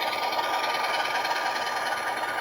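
ROCO model PRR diesel locomotive, an RF-16 with a new motor, running on its track: a close, steady whirring motor hum with faint rattling, continuous and unbroken.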